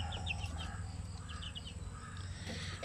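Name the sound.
chicken, Shamu Asel crossed with pure Basilan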